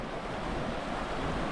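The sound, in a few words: Vjosa river flowing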